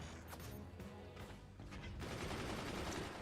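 Faint machine gun fire in the strategy game Forts, rapid rattling bursts that blend into a continuous distant clatter.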